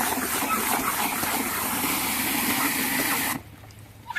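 Black walnuts being agitated in a container of water, giving a steady loud sloshing, rushing wash that runs continuously for over three seconds before cutting off abruptly into near quiet.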